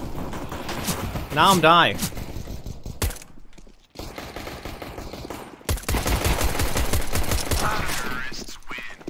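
Gunfire in Counter-Strike: Global Offensive, with rapid automatic bursts and sharp shots in a friendly-fire exchange, heard alongside a player talking and other game sounds, with a brief silent gap midway.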